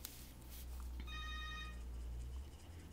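Indoors, a phone rings faintly with a short electronic trill of repeated tones in the background, set against quiet room noise.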